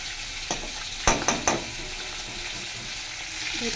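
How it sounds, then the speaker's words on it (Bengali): Bhetki fish frying in a pan with oil, a steady sizzle broken by a few sharp crackles and spits in quick succession near the start, then settling back to an even hiss. "এখানে মাছ ভাজা হচ্ছে"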